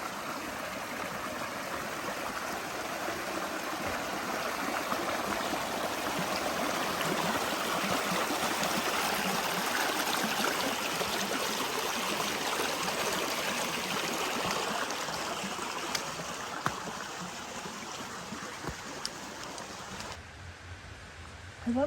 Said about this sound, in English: I love these little springs just coming up out of the ground.